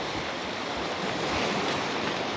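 Waves rush constantly on a beach, a dense unbroken wash of surf and wind noise heard close and fairly loud, with no voices.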